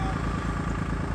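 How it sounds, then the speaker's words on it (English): A Kubota L3901 tractor's diesel engine chugs loudly and close with a steady pulsing rhythm while it moves a log. "my neighbor Jason and his L3901 Kubota tractor moving this log for me up by where the sawmill's gonna be"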